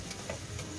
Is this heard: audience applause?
no